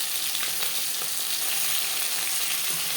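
Soft Bhola bhetki fish fries in hot oil in a pan, giving a steady, even sizzle that carries on alone without any talk.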